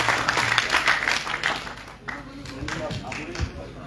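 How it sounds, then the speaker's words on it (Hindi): Crowd applause at a Govt Degree College event in Kishtwar fills the clip, dense clapping that dips briefly then continues, with some voices mixed in underneath. "एक बार फिर ज़ोरदार तालियां इन पुलिस वालों के नाम।"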